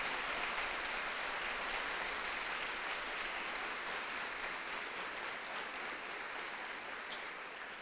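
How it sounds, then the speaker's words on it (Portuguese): A large church congregation applauds steadily and continuously, a dense wash of clapping that stays loud and even throughout. "aplauda o Senhor se você crê"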